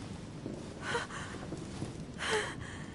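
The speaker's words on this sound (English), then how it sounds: "Her breathing is becoming stable and..." A woman breathes heavily in The Council, with two sharp, gasping breaths about a second and a half apart over a low, quiet background.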